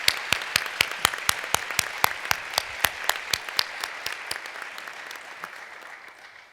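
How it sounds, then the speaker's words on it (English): Sparse, distinct claps from an audience at a keynote lecture for a women of color task force conference, a steady rhythm of individual hand claps that gradually fades. "let's give them all a huge round of applause for their support of the Women of Color Task Force"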